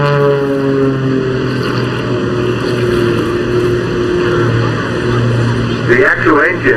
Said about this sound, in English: when you're going into the vertical, then you can hear the jets coming in